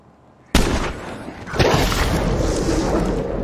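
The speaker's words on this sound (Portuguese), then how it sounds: "Dei um tiro ali de escopeta" A single loud shotgun blast booms out in State of Decay 2, a zombie survival game played on Xbox Series S, a sharp crack followed by a sustained rumbling roar that swells again a second later.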